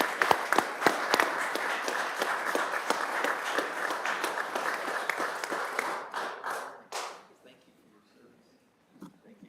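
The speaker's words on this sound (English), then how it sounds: "I'd like to get a round of applause for our co-veterans of the month, Ronald and Ruth Bradford." A meeting-room audience applauds for honored veterans, dense clapping with a few sharp individual claps up front, holding steady for about six seconds before thinning out and fading to near silence.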